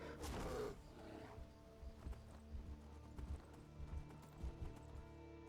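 Horse hooves clip-clop at a steady trotting rhythm while riding in the video game Skyrim, each hoofbeat a soft, faint thud repeating evenly through the clip.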